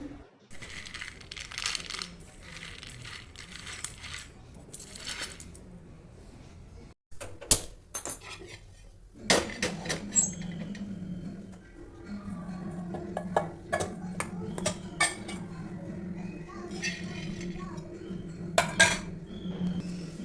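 Shelled fresh urad beans rattle and scrape as they dry-roast on a metal griddle, with repeated clinks and stirring strokes, steady and close, without any talking.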